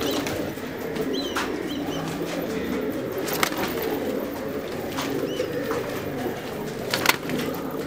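Pigeons at a loft cooing and chirping in a busy, continuous chorus, with several brief sharp flutters of wings standing out above the steady bird noise.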